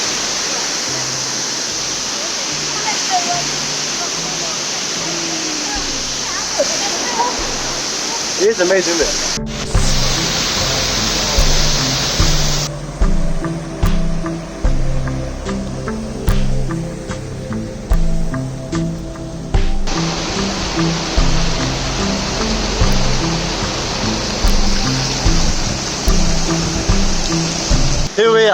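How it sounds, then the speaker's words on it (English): A small waterfall in Brecon Beacons National Park, Wales, pours with a steady, loud rushing hiss at close range. Rhythmic pulsing and a person's voice come in partway through. "Right, we've arrived at waterfall number 1."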